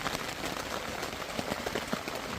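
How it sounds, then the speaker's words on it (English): Rain patters steadily outside a hot tent, a dense even hiss with scattered heavier drops and no voices. "it's raining outside"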